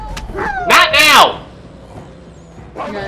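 A dog in the video game Assassin's Creed 3 gives a couple of loud, close yelping barks, while someone speaks over the game audio.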